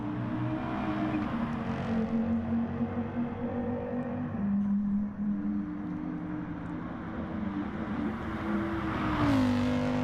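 A race car in a racing video game slows for pit entry. Its engine whines steadily and close, with pitch shifts throughout and a final drop as it brakes.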